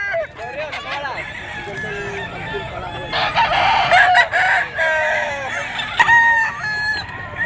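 Roosters crow repeatedly at a busy Bocaue pet and poultry market in the Philippines, with several overlapping calls rising loud and near over constant crowd chatter and clucking.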